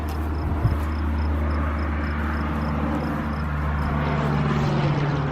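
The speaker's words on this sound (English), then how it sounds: "Every once in a while, one of those little planes come by." Small propeller plane passing over from a nearby small airport, a steady distant engine drone with a faint rhythmic whine, continuous and fairly far off in open outdoor air.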